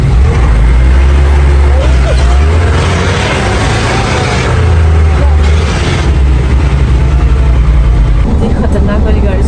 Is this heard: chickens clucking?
no